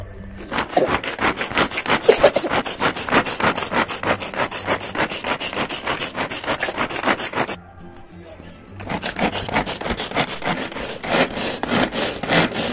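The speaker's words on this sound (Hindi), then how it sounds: "ये अच्छे से घिस गया है" Carrot and radish rubbed over a grater for paratha filling, a close, rapid rhythmic rasping that continues steadily, breaks off briefly, then resumes.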